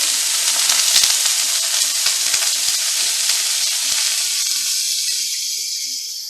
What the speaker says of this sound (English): We're going to get our shrimp in there. You want to hear that. You want to hear that noise.